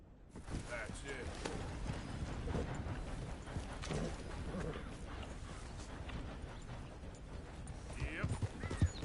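Horse hooves clip-clop at a steady trot in the video game Red Dead Redemption, with mechanical clicking behind them. A voice talks over the hoofbeats throughout, and the sound grows a little louder near the end.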